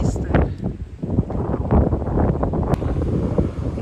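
Wind blowing outdoors on a cold, sunny day, buffeting the microphone in loud, uneven gusts, with the rough roar rising and falling throughout.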